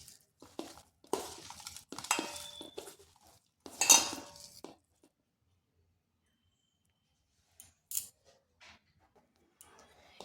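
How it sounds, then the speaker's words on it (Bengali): A spoon scraping and clinking against a bowl while mixing gram flour into a soybean mixture, in short irregular bursts of metallic clatter with quiet gaps between. "বেসনটা ভালোভাবে মাখিয়ে নিচ্ছি।"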